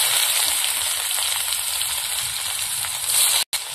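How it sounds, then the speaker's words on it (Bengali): Onions fry in hot oil with bay leaf and panch phoron, a steady, loud, close sizzle that holds evenly throughout and then cuts out briefly near the end. "পেঁয়াজটা হালকা করে ভেজে নিয়েছি"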